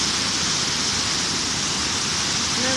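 A waterfall on a river in Argentina sends out a steady, dense roar of falling water, loud and unbroken, with no voices.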